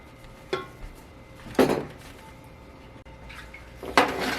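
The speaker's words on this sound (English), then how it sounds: "and then in goes the black beans" Black beans tipped into a bowl of black bean and corn salsa make a few short, close knocks and wet clatters against the dish, spaced apart in a quiet kitchen.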